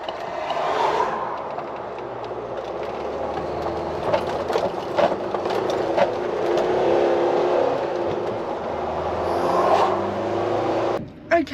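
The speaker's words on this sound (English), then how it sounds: "just with cars coming down this corner so fucking quickly" Cars speeding around a corner on a country lane in the Pembrokeshire countryside, a loud near engine roar that swells and holds, then cuts off sharply near the end, with steady rumbling tyre noise throughout.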